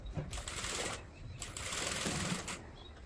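A sewing machine stitches a heavy paithani saree blouse with patch work, whirring in two close bursts separated by a short pause while someone talks over it.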